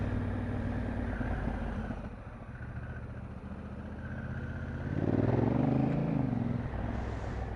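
A Honda Africa Twin DCT motorcycle's exhaust drones steadily under the rider, then swells into a louder, rising pull as it accelerates and a gear changes toward the end.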